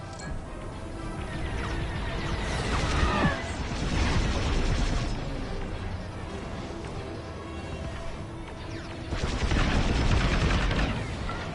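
Rapid blaster fire in a Star Wars video game aimed at incoming shuttles, a dense, continuous barrage of shots and explosions that swells and eases across the space battle.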